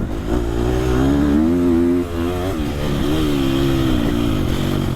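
A motocross dirt bike engine revs hard and close while shifting through the gears without the clutch, its pitch climbing, briefly dipping at a shift, then climbing again in a loud, continuous snarl.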